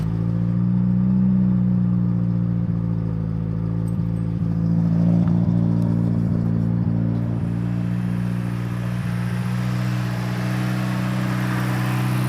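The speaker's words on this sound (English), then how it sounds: "next I need to turn the car on and let it bleed out all the air" A third-generation Honda Prelude engine runs at a steady idle after a thermostat change, giving a loud, close, even hum with faint clicks and ticks over it and no talking.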